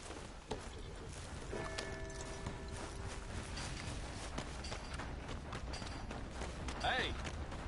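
Horse hooves clip-clop steadily in Red Dead Redemption 2, a fairly quiet rhythmic trot that sits under game ambience and bits of voiced dialogue.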